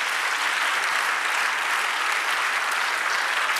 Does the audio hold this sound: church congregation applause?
yes